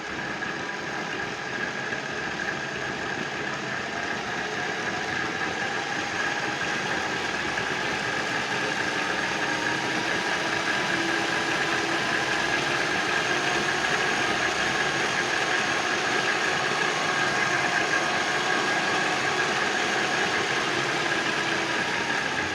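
A small DC gear motor fed from a buck converter whirs steadily and evenly at a constant pitch, with a high whine layered over a soft hum throughout.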